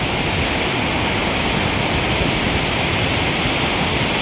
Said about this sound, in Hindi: ये देखिए क्या शोर है भागीरथी नदी का